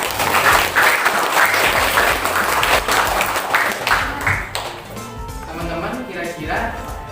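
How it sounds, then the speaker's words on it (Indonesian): Junior high school students applauding in a classroom, lively clapping from a class of seventh graders, loud at first and thinning out midway as voices and chatter take over. "Ya, tepuk tangan dulu dong."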